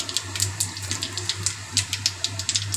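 Panch phoron whole spices crackle and pop in hot oil in a pan, a steady stream of quick close sizzles and snaps with no voices.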